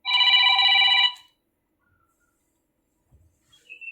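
A telephone rings once in a loud, close electronic trill lasting about a second, followed by near silence and a faint trailing tone.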